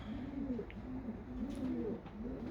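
Racing pigeons, long-distance birds, coo repeatedly in low, soft rolling phrases close by, with light background noise and no talking.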